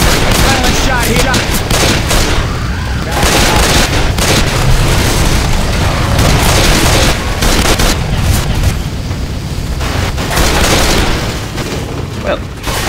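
Loud, dense bursts of rapid gunfire and booms from a Left 4 Dead 2 firefight roar almost without a break, with voices partly buried under the shooting.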